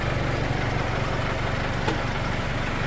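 A farm tractor's engine idles steadily nearby during hay baling work, a constant low rumbling drone with no change in pace.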